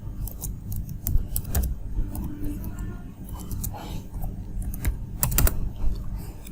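Computer keyboard typing while an email address and password are entered to create an account, a steady run of close, quick key clicks with brief pauses and a few louder taps, no voice.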